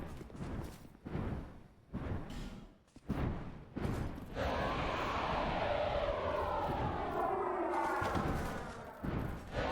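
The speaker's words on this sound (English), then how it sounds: "Is that a fighter jet?" A fighter jet roars overhead in a steady, loud sweep that builds and holds for several seconds, following a stretch of bursty, sharp sounds and muffled talk.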